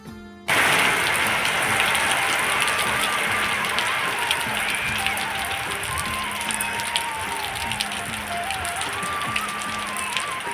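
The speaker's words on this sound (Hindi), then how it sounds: "बहुत ही ज़्यादा बारिश हुई है।" Heavy rain pours down steadily on a Sunday, 30 June, a dense hiss of drumming drops that starts abruptly and stays loud throughout without letting up.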